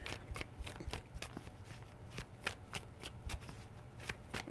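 Tarot cards being shuffled up close, a steady run of soft riffling flicks and papery snaps with no talking.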